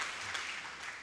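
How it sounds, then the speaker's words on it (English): Audience applause at a university faculty postgraduate research day, a brief, dense patter of clapping heard at moderate distance. "Can we please give him another round of applause?"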